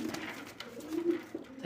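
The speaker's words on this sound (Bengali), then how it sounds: "খুবই ছটফটে কবুতর ভাই" A large, restless pigeon sitting on two eggs gives low, throaty coos, a few soft rolling calls up close with slight rustling between them.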